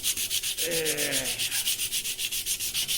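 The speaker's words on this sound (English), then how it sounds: "So we're gonna try the 220 dry sanding." Dry hand sanding of an aluminium motorcycle grab bar with 220-grit sandpaper: steady back-and-forth rasping strokes in a fast, even rhythm, close and alone, with a brief faint tonal squeak partway through.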